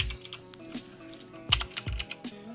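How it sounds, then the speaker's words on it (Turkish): Keys clacking on a Motospeed CK107 computer keyboard, a few quick bursts of close, crisp strikes with short pauses between them. "Klavye şöyle gördüğünüz gibi efsane. Motospeed CK107 arkadaşlar."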